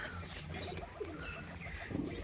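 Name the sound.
pigeons cooing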